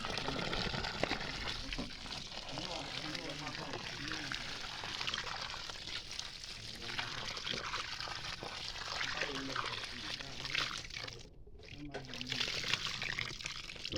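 Water is poured onto a newly planted jackfruit tree in The Gambia, a soft splashing trickle running under people talking nearby, with a brief quiet gap near the end.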